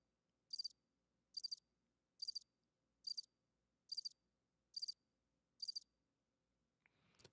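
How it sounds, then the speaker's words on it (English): A RODECaster Pro II sound pad plays a crickets effect: seven evenly spaced bursts of high, rapid chirping against a quiet background, ending with a brief low thump. "Here's crickets."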